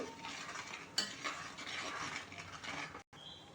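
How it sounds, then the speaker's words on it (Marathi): Spice masala sautés in a pan for katachi amti, a soft continuous sizzle with scraping stirs and a brief clink of a utensil, fairly quiet and without voices. "हे मसाले थोडेसे मिक्स करून परतवून घेऊ"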